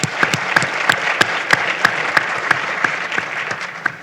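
Steady applause from a conference audience at an energy pitching session, dense clapping with a few sharper individual claps standing out, moderately loud and continuous throughout.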